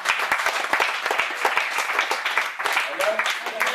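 A church congregation at a Sunday service claps and applauds together, a dense, lively stream of sharp hand claps mixed with cheering voices, loud and close, with a voice rising near the end.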